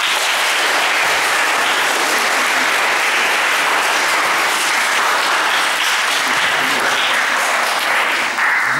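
An audience at a school interdisciplinary competition awards ceremony claps loudly and continuously, a dense, steady wash of applause that holds throughout and dips only briefly near the end.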